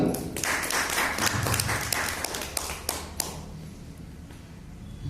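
A business-show audience at the Altos Pragati Plan Show 2022 bursts into loud, vigorous clapping that thins out after about three seconds into a few scattered claps.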